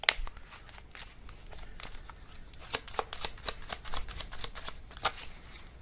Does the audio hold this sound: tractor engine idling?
no